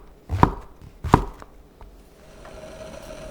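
A kitchen knife slices king oyster mushrooms into thin slices on a cutting board, giving two sharp, close chops followed by a faint third cut, then quiet.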